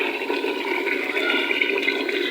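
Water poured from a jug into simmering chicken korma gravy, a continuous splashing pour for a couple of seconds, close and fairly loud.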